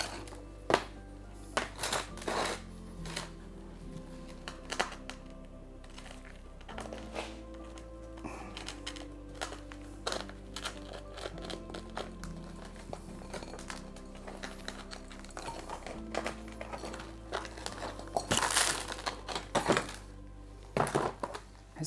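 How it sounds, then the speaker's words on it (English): A young pine grown from seed is levered out of its pot in early spring, with a long run of close, uneven knocks, thunks, cracks and scraping, and no talking. "probably about now there's enough of a separation for me to be able to lever the tree out of the pot"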